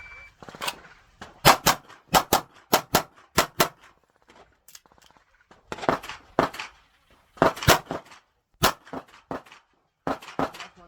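Gunshots ring out at an outdoor shooting range, loud and close, in rapid strings of sharp cracks with short pauses between volleys.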